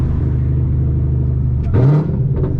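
A Camaro ZL1's supercharged V8 rumbles at a steady low idle, then a brief rising whine swells over the engine around a downshift before settling back into the deep, close, loud burble during a night drive.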